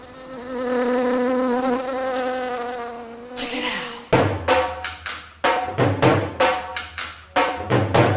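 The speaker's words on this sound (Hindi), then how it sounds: "मुझे लगता है कि डेंगू का मच्छर बैठा था।" Buzzing of a dengue mosquito, a thin whining drone that wavers for a few seconds, then breaks into a run of sharp repeated slaps or hits with brief gaps, loud and close.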